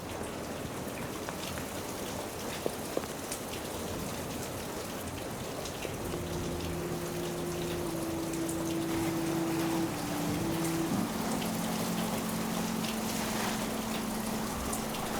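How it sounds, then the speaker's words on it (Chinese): Rain falls in an abandoned hospital at Chernobyl, a soft, steady patter of drops across the whole stretch, joined partway through by a faint sustained tonal hum that wavers in pitch. "收录于切尔诺贝利的当地所有的鸟叫声、雨滴声、溪流声"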